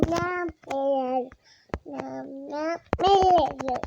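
A baby babbles and vocalises in short bursts of cooing syllables, close and fairly loud, with brief pauses between them, while an adult looks after the infant during a Minecraft gaming session.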